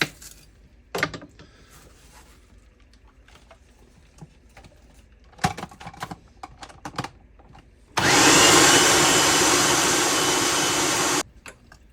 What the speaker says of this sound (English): after that, we blend it all up and we're going to have some pretty good salsa.